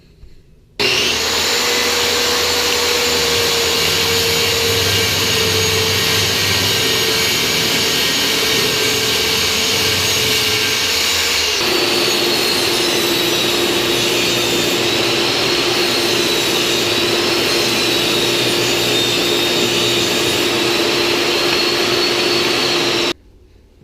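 A power saw cuts tabletop pieces for a flip-top tool cart with a loud, steady whine lasting about twenty seconds. Its pitch shifts partway through the cut, and no one talks over it.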